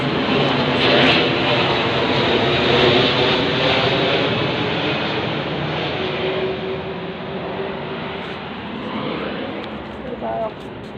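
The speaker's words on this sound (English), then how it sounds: "The plane is going over as I say that" An airplane flies overhead with a loud, steady engine roar that slowly fades over several seconds, and nobody speaks.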